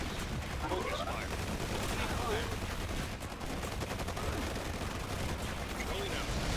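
Units in the strategy video game Forged Battalion open fire in a continuous rattle of rapid gunshots and bursts, with someone speaking over the battle noise.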